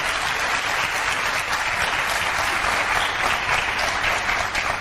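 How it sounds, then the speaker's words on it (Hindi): Sustained applause from a crowd, dense clapping holding at a steady loud level throughout. "आप लोगों के लिए जोरदार तालियां।"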